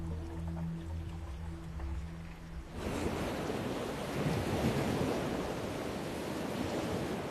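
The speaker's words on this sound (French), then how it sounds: "des tourbillons et de grosses déferlantes." Heavy surf breaking over reefs off the coast of Brittany amid strong tidal currents, a dense, loud roar of crashing water and wind that surges in abruptly after a quieter, humming opening and stays continuous.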